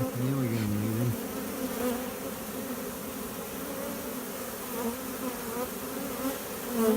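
A swarm of bees drones in a steady, continuous buzz, close and moderately loud, with individual insects passing near, while no one speaks.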